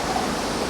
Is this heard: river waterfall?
yes